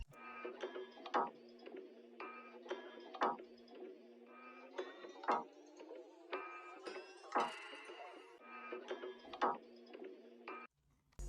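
Percussion loops for a vintage soul sample: clicky, ratcheting hits and shakers repeat in a steady groove over a sustained tonal bed, with no talking.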